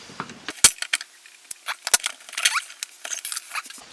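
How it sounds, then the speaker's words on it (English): Halves of an airsoft MP5 gearbox are pried apart at close range, giving sharp metallic clicks and small rattling taps that come in an irregular cluster of light, bright ticks. "Now time to separate the gearbox."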